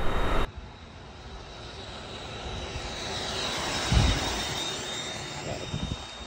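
A jet thruster strapped to a bicycle whooshes with a steady, breathy roar as the bike speeds along, after a brief loud burst at the start.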